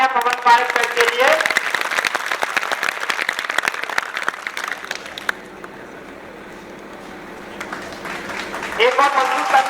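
An audience at a Class 10 result celebration for a science academy in Gangapur City breaks into sustained, dense clapping for Pawan Parekar, loud at first and then thinning out, with a voice speaking at the start and end.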